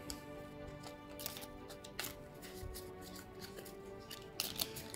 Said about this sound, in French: On mélange l'ensemble des cartes.